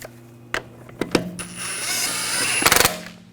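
A hand ratchet tightening brake hose bolts on a BMW X5 during a rear brake hose replacement, a few isolated clicks followed by a quick rattling burst of clicks near the end, close and fairly loud.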